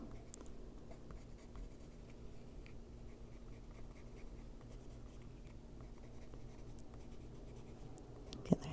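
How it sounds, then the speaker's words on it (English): A colored pencil scratches softly across a Christmas coloring book page in faint, steady strokes, quiet and close, with a small tap near the end. "Going to keep turning the pencil so I have a sharp point."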